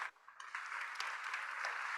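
Standing audience applause at a Parents Circle Families Forum gathering in Vermont, a soft, even wash of clapping that sounds distant and quiet, holding steady after a brief dip at the start.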